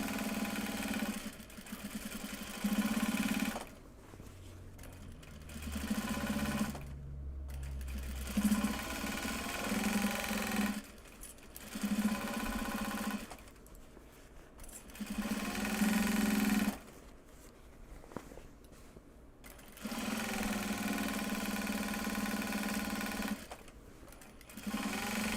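Electric sewing machine stitching the interior-side seam of a project bag made from Japanese fabric, running in several steady whirring bursts of a few seconds each, separated by short pauses, close and moderately loud with no talking.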